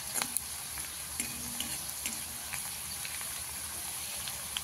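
Sliced onions fry softly in a pan while they turn reddish, a faint steady sizzle broken by a few light clinks and scrapes of a stirring spoon.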